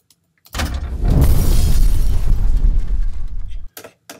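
A loud explosion sound effect bursts in suddenly, followed by a few seconds of roaring, crackling fire before it cuts off, with a couple of faint knocks after.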